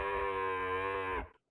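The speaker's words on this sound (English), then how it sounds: "It has a loud and cow-like sound, and is very fitting for her dangerous herbivore." A single loud, cow-like moo from the Kasmosaurus dinosaur in a video game, a sustained harmonic bellow lasting just over a second before cutting off cleanly.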